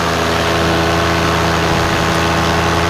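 A powered paraglider motor idling up close, a loud steady engine drone with a constant low hum and slight vibration, no voices.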